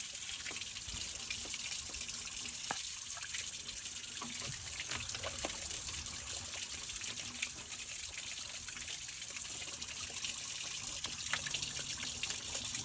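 Water runs steadily out of the radiator of a 1994 Ford Ranger 3.0 during a coolant flush, a continuous close trickle and splash with no talk.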